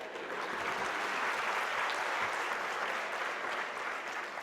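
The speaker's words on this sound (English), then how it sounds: "So big round of applause for him to staying back." An audience at a national conference for CA students claps in a steady round of applause, a dense, even patter of many hands that holds evenly and dips slightly at the end.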